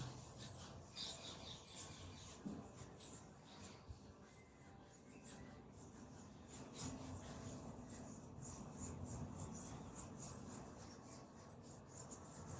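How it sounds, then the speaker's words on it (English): Fists rubbing bare feet during a gentle stretching session: a soft, continuous close-up friction and scratchy rasping that keeps going for the whole stretch, quiet and unhurried. "using your fists to rub whichever part of your foot or shoulder you might want to focus on"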